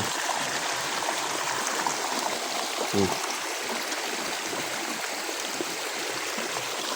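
Water flows steadily through a dug drainage channel on a farm plot, a constant close rushing wash with one brief knock partway through.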